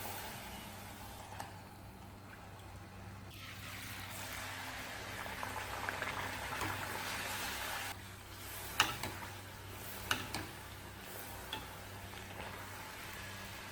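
Ragi (finger millet) puris deep-frying in hot oil make a soft, steady bubbling and boiling hiss, fairly faint, with a few sharper crackles near the end and no talking.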